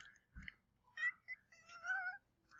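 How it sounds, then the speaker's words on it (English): A cat meows several times in short, close, quiet calls spread over a couple of seconds, with a soft thump in between. "my cat wants to eat one"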